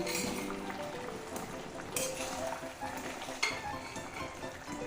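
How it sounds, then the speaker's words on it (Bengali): Dhoka lentil cakes are dropped into a pan of simmering boiled potatoes for a Bengali dalna, giving a soft sizzle and bubbling with occasional clinks and knocks of a utensil against the pan. "এই অবস্থায় আমি ধোকাগুলো দিয়ে দিচ্ছি।"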